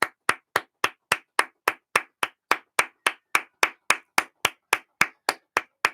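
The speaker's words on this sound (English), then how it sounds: "There's an amazing sound of claps coming out from my studio at the moment" Steady hand clapping in a home music studio, about twenty sharp, evenly spaced claps at a brisk rhythm, close and fairly loud with no talk.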